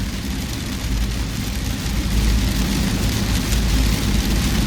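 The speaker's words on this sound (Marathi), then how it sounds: "पाऊस हा एवढा जोरात पडतो आहे" Heavy rain drums steadily on a car driving on a road, over a low engine and road rumble, the noise growing slightly louder partway through.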